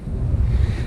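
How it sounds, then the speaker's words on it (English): Strong wind buffets the microphone with a steady low rumble and no voices. "I don't know if you can hear that, but hell, it is windy just here"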